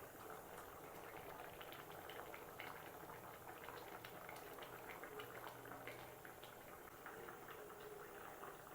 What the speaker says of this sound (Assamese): দেখিছে একদম জোল তীব্ৰ গতিত উতলি আছে।